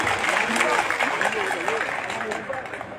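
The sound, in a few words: audience applause at rally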